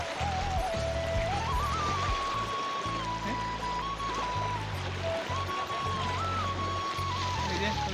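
Fast-flowing water of the Dihing River rushes in a steady, loud broadband roar, joined by a sustained whining tone and low rumbles that sound like a motor, under a voice.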